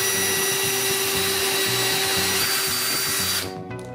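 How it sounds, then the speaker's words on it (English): A loud power drill whirs steadily for about three seconds drilling a 1/8 inch pilot hole in Trex composite decking, then cuts off abruptly and winds down. "For each fastener, I'm going to drill an 1/8 inch pilot hole."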